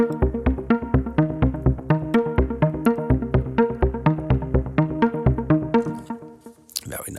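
Omnisphere 2.6 synth arpeggiator pattern with the lowest note first as a bass, fast rhythmic plucked notes repeating in an even pulse, loud and close, fading near the end as a voice briefly starts.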